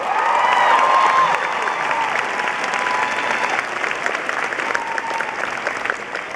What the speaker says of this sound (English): please, a huge round of applause, our protagonist, Tris, Shailene Woodley!